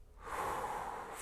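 One slow, deep inhale through the nose during hatha yoga breathing, a soft, close, airy rush that swells and holds for about a second.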